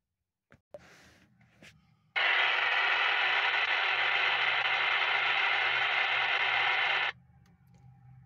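A radio scanner hisses with steady broadband static for about five seconds, loud and alone, after some faint clicks and handling noise.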